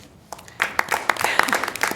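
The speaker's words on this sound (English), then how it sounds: "please join us in giving them a big applause" Scattered clapping from a college board meeting audience honoring student services staff, starting sparse and building into a short burst of applause.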